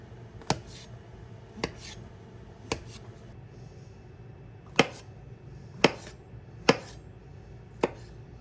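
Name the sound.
mushrooms being cut into pieces with a knife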